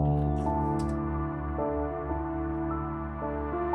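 A soft sustained synth pad shifts between chords over a low bass line, smooth and mellow with no percussion.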